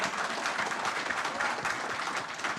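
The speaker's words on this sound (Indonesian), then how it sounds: "yang disambut riuh tepuk tangan kader Golkar" Golkar party members applauding at a party gathering, a dense, continuous wash of many hands clapping at moderate distance, steady throughout with a faint crowd murmur beneath.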